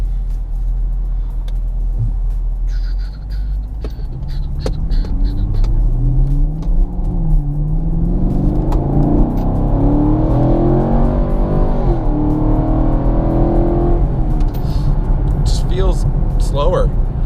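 A car on its stock tires rolls and turns along a road, its engine drone rising and shifting in pitch as it accelerates through the bend, with steady road rumble underneath throughout.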